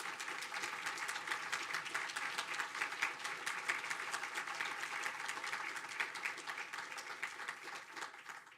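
An audience at an awards ceremony for postdoctoral scholars and mentors applauds in a steady, dense wash of clapping that stays even and fairly soft throughout, with no one speaking over it.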